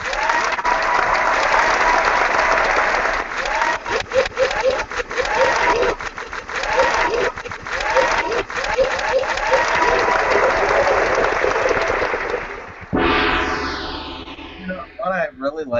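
Loud, sustained applause plays alongside choppy electronic sound effects, with brief dropouts. It ends in a sweeping synthetic tone and scattered blips.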